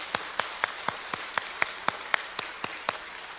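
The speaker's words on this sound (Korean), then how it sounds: "우리 감사의 박수 한번 드리겠습니다." Church congregation at a special dawn prayer service clapping in thanks, a sparse, evenly spaced run of about a dozen sharp claps over a low hiss, moderately close.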